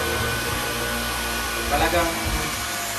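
A Dyson V15 Detect cordless vacuum cleaner runs with a steady, close airy whine, and a person talks over it.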